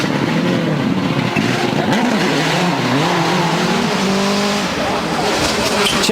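A Subaru rally car driven by Petter Solberg runs a stage of the 2007 WRC ADAC Rallye Deutschland with a loud, continuous engine note that rises and falls through gear changes, while a commentator talks over it.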